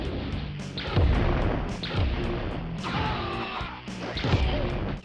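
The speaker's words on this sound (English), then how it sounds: "we have a soldier shooting rockets out of his hands at, I believe, a cyborg" Rockets blasting from a soldier's hands at a cyborg in the Nintendo 64 fighting game War Gods, four heavy booming impacts about a second apart, each with a crashing tail, loud and close, no voices.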